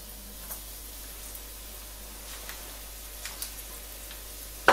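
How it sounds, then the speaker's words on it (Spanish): Garlic pieces fry in oil in a pan with a faint, steady sizzle and a few light ticks, ending with a brief louder clatter. "echamos los ajos, los ajitos partidos en trozos para dorarlos"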